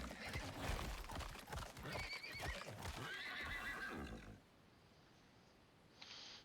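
Horse neighing and hooves in the survival video game Icarus: a loud, shrill whinny with hooves clopping beneath it, then near-silence, then a brief faint sound near the end.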